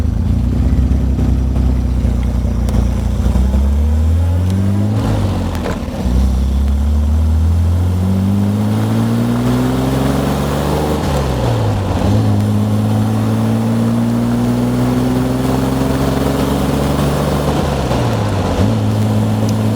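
A 1960 Austin Healey 3000 MKI with factory hardtop and straight-cut gears pulls away and accelerates, its engine note climbing through repeated gear changes with brief dips between them, loud and close throughout.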